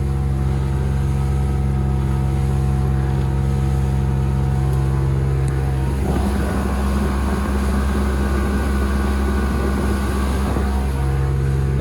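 A Mercury 115HP OptiMax outboard on a Trophy 1802 WA boat holds steady at 4,200 RPM, a loud continuous engine drone with water rush that swells and roughens midway.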